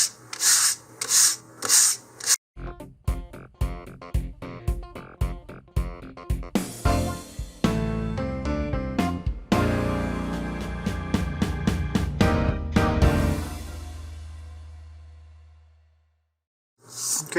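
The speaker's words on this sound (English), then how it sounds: "I'm just going to smooth this out again using some 150, you could also use 220 grit sandpaper here" Sandpaper of 150 grit rubs over the wood of a model rocket, a close scratchy rasp repeating in quick strokes that later blur into a steady grinding stretch before fading out.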